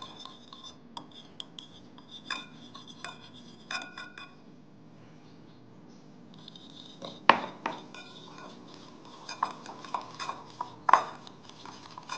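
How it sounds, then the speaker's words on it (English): Two egg yolks and sugar whisked together in a bowl for a king cake filling, quiet scattered clinks and scrapes of utensil against the bowl with pauses in between and a few sharper knocks. "I will put two yellow eggs with 30 grams of sugar and mix together"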